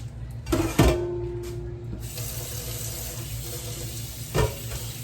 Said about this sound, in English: And you can see I'm just washing as I go.